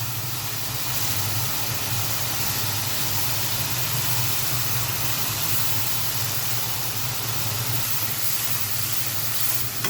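Small shrimp frying with spices in a pan, a constant broad hiss and sizzle that stays even and loud throughout, close by with no talk.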